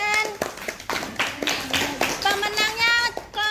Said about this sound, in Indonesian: Tepuk tangan dulu kita semuanya